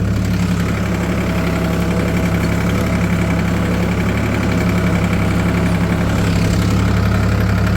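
Tractor engine dragging a wooden levelling plank across a field after wheat harvest, a steady, loud, low diesel chug throbbing continuously with no voices.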